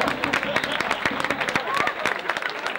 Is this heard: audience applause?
yes